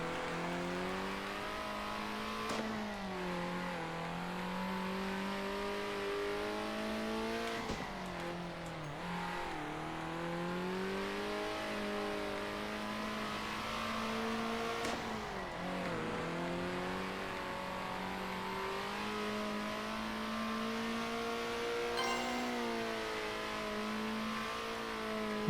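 Race car engine in Circuit Superstars during a 1960s-style grand prix, droning continuously with rising and falling pitch as it revs up, shifts and brakes through corners, steady and loud with no talk.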